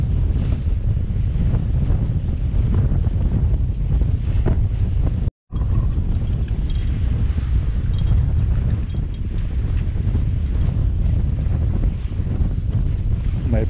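A sailboat crossing from southern England to Ireland meets strong gale wind and waves, loud buffeting wind roaring over the microphone with rushing water beneath, continuous apart from a brief dropout.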